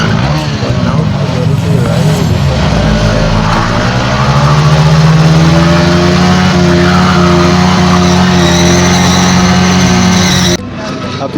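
Motorcycle engine revving hard during a tyre burnout, a loud sustained roar whose pitch climbs and holds before cutting off abruptly near the end.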